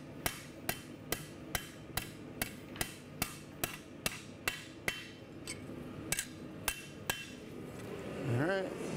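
Carbon steel struck on an anvil with a hammer, about a dozen sharp ringing blows in a steady rhythm, loud and close, ending in a brief rising mechanical whir.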